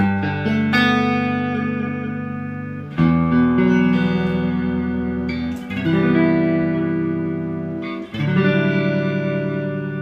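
Sustained electric guitar chords ring out through a Vintage Sound 22SC tube amp with reverb cranked high, struck every few seconds and left to decay into a washy tail.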